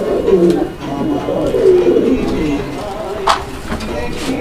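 A pair of red Mosaldom fancy pigeons coo in low, rolling phrases close by, with soft room noise and a brief sharp sound near the end.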